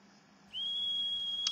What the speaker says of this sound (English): The whistle coming from the tea room near the retiree estate shot through the darkness of the night